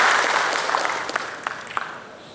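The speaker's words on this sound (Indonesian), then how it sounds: "Kita kasih tepuk tangan dulu untuk Pertamina yang luar biasa" Brief applause from an audience at the Indonesia Green Awards 2025 ceremony for Pertamina, a short burst of clapping that thins out into scattered individual claps.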